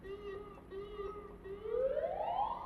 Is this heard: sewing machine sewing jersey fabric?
no